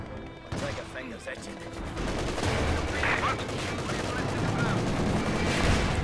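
A Panzer IV tank fires on an Su-76 in Company of Heroes 2 amid a dense battle din of crackling gunfire and explosions, a sharp blast near the start giving way to sustained rumbling combat noise.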